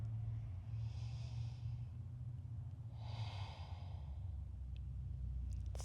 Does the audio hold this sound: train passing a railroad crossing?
no